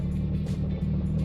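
A BMW with an N54 engine, suffering an exhaust VANOS fault, idles roughly with a steady low drone and slight unevenness, close and continuous with no voices.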